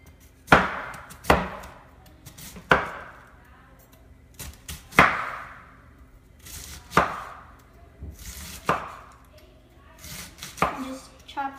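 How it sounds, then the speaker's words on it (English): A knife chops through a quarter head of cabbage for coleslaw, landing about ten sharp, separate strokes on a cutting board at an uneven pace, close and clear, with no talking. "So just start by chopping this up."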